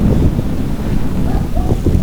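Cold morning wind blows outdoors in Hungary, buffeting the microphone with a constant loud rumbling roar and no voices.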